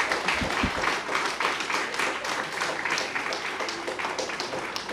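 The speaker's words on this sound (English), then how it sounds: "your biggest, heartiest round of applause" Hearty applause from the crowd at a Dominica primary school commissioning ceremony, dense steady clapping filling the room, loud and sustained throughout with no break.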